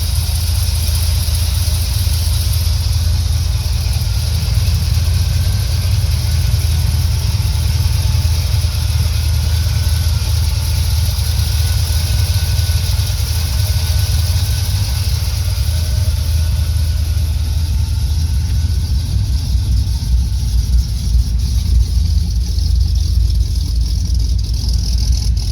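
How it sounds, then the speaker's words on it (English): A big block 460 V8 in a 1978 Ford Bronco with custom single-muffler exhaust idles with a deep, steady rumble, loud and close, holding an even tone throughout with no one speaking. "Does have that nice rumble to it. Nice, smooth running big block 460."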